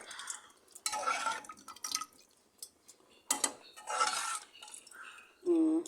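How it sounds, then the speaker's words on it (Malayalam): Thick sambar curry in a pot is stirred, with hot water poured in: intermittent bursts of scraping and clinking from the spoon against the pot, separated by short quiet gaps, close and fairly loud, ending with a brief squeaky scrape. "ഒരു ഭാഗത്ത് തന്നെ വെച്ചിട്ട് കലക്കിയാൽ മതി"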